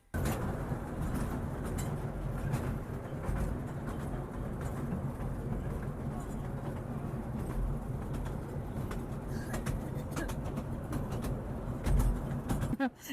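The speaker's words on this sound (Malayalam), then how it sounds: "ഒരു കുഞ്ഞൻ പാലത്തിൽ കൂടെ ഒരു കുഞ്ഞൻ ട്രെയിനിൽ ഇങ്ങനെ ആ ഐലൻഡിലേക്ക്" A small toy train runs across a bridge over the sea toward Elephanta island near Mumbai, giving a steady rumble and rattle close by, with pigeons cooing and faint outdoor bustle mixed in.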